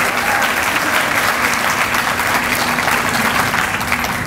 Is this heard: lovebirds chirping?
no